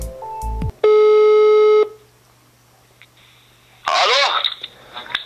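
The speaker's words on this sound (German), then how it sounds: "So, jetzt wähle ich mal die Nummer." A landline telephone sounds in short bursts: a brief tone, then a long steady beep, followed by a noisy crackling burst like a line connecting, all fairly loud and close.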